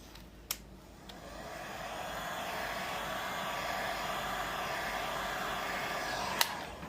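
A heat gun blows steadily across a small acrylic paint pour on a mini canvas, a continuous even hiss-roar lasting several seconds with a couple of faint clicks near the start and end.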